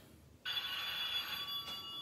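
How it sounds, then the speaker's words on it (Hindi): On a Deal or No Deal game show, a telephone begins ringing after a brief pause with a steady electronic bell tone that carries on alone, close and clear. "फोन आ गया जी बैंक का"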